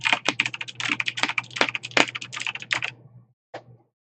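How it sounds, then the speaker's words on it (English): Rapid typing on a computer keyboard, close and crisp, a dense run of clicking keystrokes over a low steady hum, thinning out and ending with a few last taps. "that was my keyboard."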